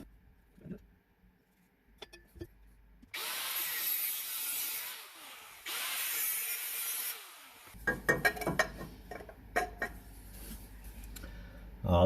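Power tool cutting metal during a wasteland vehicle build, a harsh sustained grinding cut lasting several seconds with a brief pause, followed by clanks and handling noises up close.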